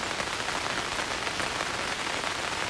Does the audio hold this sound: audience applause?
no